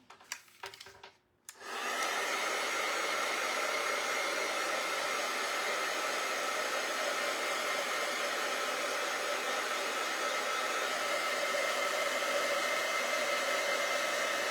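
A hair dryer blows steadily on a painted barn quilt, a loud, close, continuous whoosh that starts after a brief start-up flutter and holds evenly to the end with no talk.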